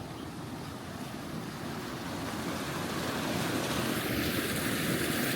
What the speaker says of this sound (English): so I want to see this water that is flowing here.